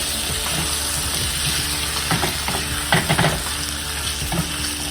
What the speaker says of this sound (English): Now I'm going to put it in here. And we're going to stir everything nicely.